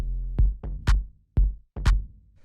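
A clap sample lands just ahead of a deep kick in a house groove, four sharp bursts each trailing into a low thump, loud and alone with no voices.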